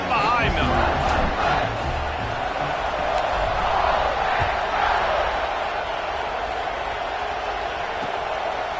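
A stadium crowd at a Miami vs Ole Miss college football game keeps up a dense, continuous roar of cheering before kickoff, loud and steady throughout, with a commentator talking over it.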